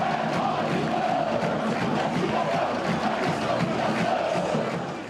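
Santos football fans at Vila Belmiro stadium chant loudly and continuously during the halftime break of a match, a dense roaring crowd sound that fills the whole stretch.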